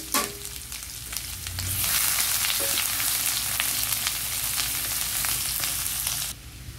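Chopped onion and garlic sizzle steadily in a hot pan, a loud continuous broadband frying hiss that swells after a moment and holds, with faint stirring; no one talks.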